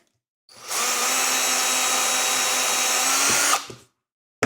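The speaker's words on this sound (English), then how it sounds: "I'm going to try and do is drill not quite all the way through this" A power drill bores into a pinball machine part, running at a steady high whine for about three seconds before winding down and stopping, with no voices over it.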